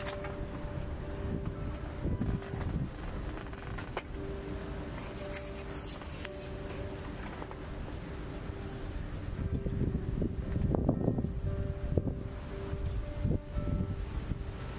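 Steady wind rushing across an open outdoor fishing spot, buffeting the microphone with continuous broadband noise that swells slightly toward the end, with no voices.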